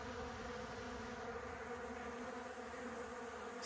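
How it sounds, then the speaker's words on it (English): A small, not very large swarm of honey bees hums through the open air, a faint, steady buzzing drone that holds evenly throughout with no voices. "I can tell you there's a swarm in the air right here"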